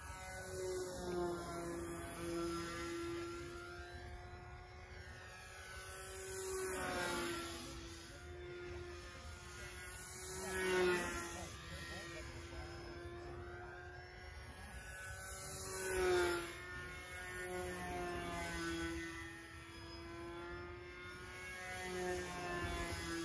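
A Super Clown speedster model airplane engine whines steadily in flight, its pitch and loudness swelling and fading in repeated passes as it circles, pulsating near and far.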